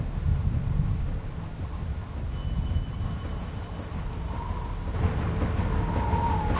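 Storm ambience in The Walking Dead video game: a continuous low rumble of wind and weather, fairly loud and unbroken, with a faint whine and a mechanical drone rising near the end.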